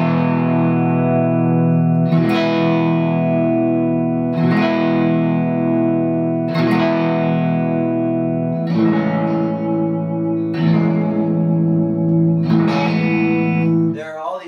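Electric guitar through a Bearfoot FX Uber Bee overdrive pedal, strumming sustained chords about every two seconds, warm and overdriven, ringing out loud and close with no speech.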